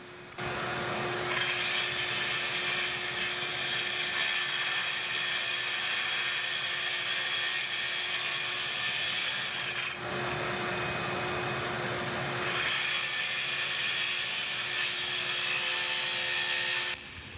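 A power tool cuts through a floor tile already set in place while a shop vac runs alongside, a loud constant whining roar with a steady hum, briefly dipping twice as the cutting pauses, no talking.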